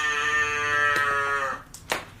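A cow moos once in a long, drawn-out bellow that fades away, followed by a couple of short clicks, with no talk over it.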